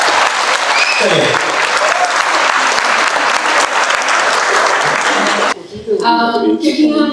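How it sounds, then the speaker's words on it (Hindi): An audience gives loud, sustained applause for an inspiring speech, with dense clapping filling the room for several seconds before it cuts off and a voice begins talking. "खड़े होकर के जोरदार तालियों के साथ में"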